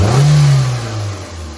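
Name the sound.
Toyota Corolla engine revving up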